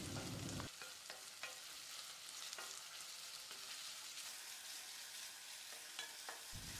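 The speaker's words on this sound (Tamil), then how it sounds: "இதையும் போட்டு மசிகிற அளவுக்கு வதக்கிடலாம்." Loud, dense sizzling as tomatoes are stirred and sautéed in a hot pan until mushy, with scraping sounds from stirring.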